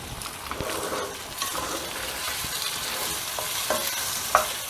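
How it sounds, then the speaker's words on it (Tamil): Ajwain seeds tempering in hot oil for a mango and green chilli thokku, a steady close frying sizzle with light stirring scrapes and a small sharp crackle near the end, no talking. "ஓமத்தில் இப்போ தாளித்து காமிச்சிருக்கேன் பாருங்கள்."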